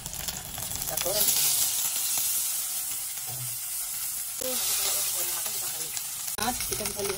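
Fish sizzles loudly in hot oil in a pan before going into a capri-leaf fish soup. The crackling hiss is steady and close, with occasional stirring sounds and someone talking over it.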